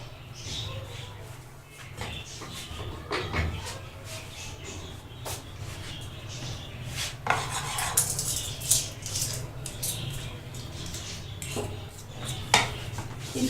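Mango cake batter, tinted with food colour and mango essence, is stirred in a bowl with repeated clinks and scrapes of a utensil against the side, over a steady background hum.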